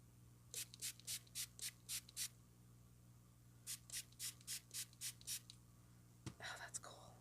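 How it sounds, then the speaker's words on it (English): A spray bottle mists water onto an ink background in quick bursts: a run of about seven even pumps, a pause, then six more, soft and close against a quiet room hum. "Just kind of give it some light mist and get it started."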